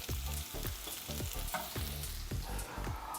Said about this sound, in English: Then we're gonna saute the mushrooms.